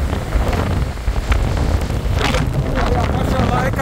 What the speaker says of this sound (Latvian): Nenormāli stiprs vējš ir.